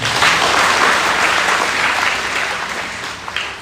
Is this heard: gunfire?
no